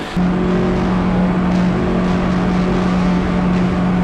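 A Peugeot-based Pugstang race car cornering during a national endurance final, its engine holding a steady, loud droning tone throughout, heard from close by with no voices.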